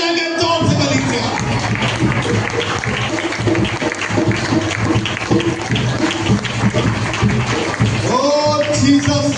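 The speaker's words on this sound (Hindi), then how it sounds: "ऊंची आवाज में तारीफ करो और ताली बजा के जोर से कलीसिया।" A church congregation at a Sunday service claps loudly and continuously, with voices praising and shouting over the dense, close applause.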